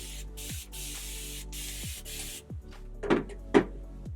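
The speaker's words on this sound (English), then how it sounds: "Then I take my mist bottle and I just" Several quick hisses from a mist spray bottle dampening wavy hair come in a rapid series, followed by a couple of soft knocks and handling noises.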